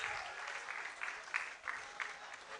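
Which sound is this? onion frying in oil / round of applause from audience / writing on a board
round of applause from audience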